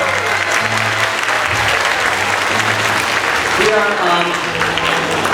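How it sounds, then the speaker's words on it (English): A crowd gives loud, sustained applause, clapping steadily throughout while voices talk over it. "can we get another round of applause for Nabia?"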